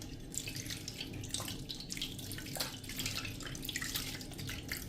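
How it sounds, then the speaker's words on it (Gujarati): Tap water pours over a gas stove burner to rinse debris from its holes, a faint steady splashing and trickling with small drips, close by and without voices. "એટલે આ રીતે હવે આપણે ઉપરથી પાણી નાખીને ધોઈ નાખશું."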